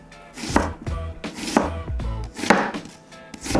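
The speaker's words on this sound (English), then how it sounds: "Chop it in half." A knife chops vegetables on a cutting board in a series of firm, close, evenly spaced thuds, with small pauses between strokes and no talk.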